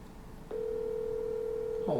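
A steady electronic tone sounds through a Bluetooth banana-shaped phone handset as a call goes out, one unbroken ring tone of about a second and a half, fairly quiet, starting after a short pause.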